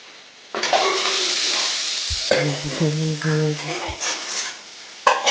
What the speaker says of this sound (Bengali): মশলাটা দিয়ে ভালো করে ফ্রাই করে নেবো